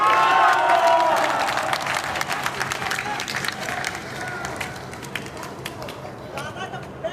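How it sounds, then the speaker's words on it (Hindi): An audience at a Hindi kavi sammelan poetry recital in Allapur, Prayagraj, applauds with dense, lively clapping that starts loud and slowly thins and fades. "ताली बजाइए, एनर्जी मिलती है"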